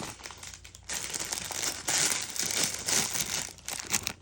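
A plastic bag holding Lego pieces is crinkled and handled up close, giving bursts of sharp crackling and rustling that come and go in uneven waves, with no speech.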